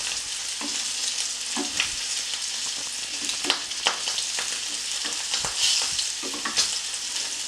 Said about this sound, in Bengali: মাছটা কিন্তু আমি লো ফ্লেমে করেই মাছগুলো ভেজে নিচ্ছি বন্ধুরা